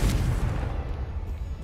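A Confringo fire spell bursts in the Hogwarts Legacy video game as a deep, heavy boom that rolls on as a sustained low rumble, loud and close.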